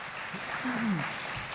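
An audience at a book award ceremony applauds a self-published novel, a steady wash of moderate clapping throughout, with a voice briefly audible underneath.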